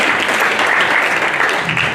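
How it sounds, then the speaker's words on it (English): Workshop participants applauding together, a short, steady burst of dense clapping filling the room. "Please, could people clap?"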